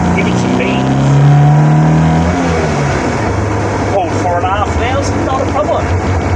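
A BMW M10 1.8-litre four-cylinder with 45mm DCOE Weber carburetors revs hard in second gear from inside the car, loud and close, the engine note climbing then easing while someone talks over it.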